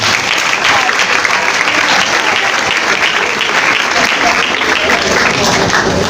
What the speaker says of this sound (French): si nous pouvons applaudir pour nous-mêmes.